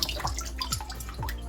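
Water is poured sparingly onto a potted orchid set in dry orchid bark, producing a run of close, distinct drips and small splashes at an uneven pace, with no talking.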